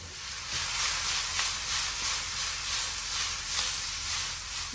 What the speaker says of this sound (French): je vais bien les faire revenir dans l'huile